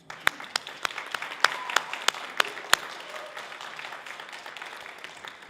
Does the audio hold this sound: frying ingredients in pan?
no